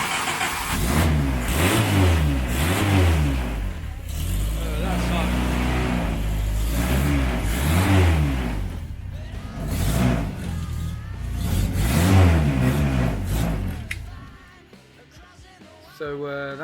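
Formula Ford race car engine, prepared for Donington Park, fires up and revs repeatedly in strong surging bursts, loud and close, before dropping away near the end.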